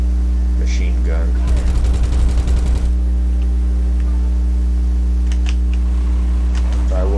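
Sd.Kfz.251/21 anti-aircraft machine guns in War Thunder rattle off one rapid burst of a few seconds over a constant engine drone, with a voice talking before and after.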